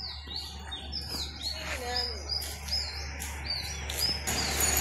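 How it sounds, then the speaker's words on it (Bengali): Birds chirp and tweet repeatedly in a Bangladeshi village, with short bright calls scattered across the whole stretch over a steady low background hum. "এদিকে পাখিতে কিচিরমিচির শব্দ করতেছে"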